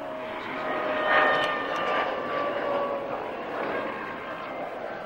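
An SE-5A biplane with a 150-horsepower engine flies past at the Duxford airshow, a steady droning engine roar that swells slightly then holds at moderate distance, with no speech.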